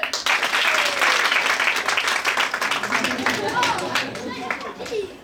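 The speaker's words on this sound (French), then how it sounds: "Veuillez faire un tonnerre d'applaudissements pour la famille Salt." Loud audience applause fills a kids' musical comedy show, dense clapping with cheers and a few voices mixed in, tapering slightly toward the end.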